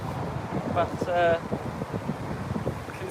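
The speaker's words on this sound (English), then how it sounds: "well, it's windy." Wind buffets the microphone at a windy Heathrow planespotting spot, a constant low rumbling rush under someone speaking.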